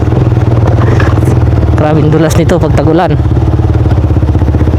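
A Honda motorcycle's engine thrums steadily up close while riding a road, with a person talking briefly over the pulsing engine in the middle.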